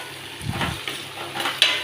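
Chicken frying with tamarind and a little salt in a pan gives a soft, steady sizzle, broken by a few scraping stirs and a light clink near the end.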